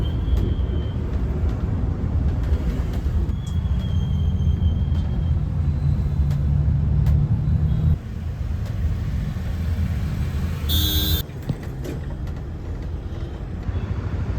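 Overnight passenger bus on the Pune to Indore route idling at a diesel stop near Chakan at night, a continuous low engine rumble throughout, with a short hiss like an air brake release near the end.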